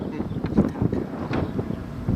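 Wind buffets a microphone outdoors, producing loud, uneven low rumbling gusts that come and go throughout.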